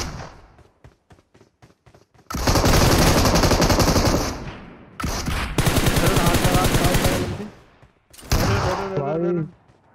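Gunfire in the video game PUBG: a few isolated single shots, then long dense bursts of automatic fire, loud and close, with a brief shout from a player near the end.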